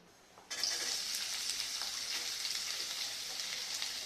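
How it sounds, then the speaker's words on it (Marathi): Chopped onion and tomato hit hot oil in a pan with a sudden sizzle that settles into a steady, close, crackling hiss. "आपण हे भाजून घेत आहोत कांदा आणि टमाटो"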